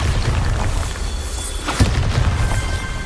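A Bombarda blasting spell in the Hogwarts Legacy game sets off a close, rumbling explosion, one heavy boom standing out amid a continuous low roar and scattered crackling debris.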